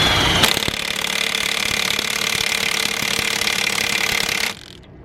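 A Milwaukee M18 High Torque impact wrench hammers on the lug nuts of a Ford L8000 truck in one loud, continuous rattling burst of about four and a half seconds, up close, then cuts off abruptly.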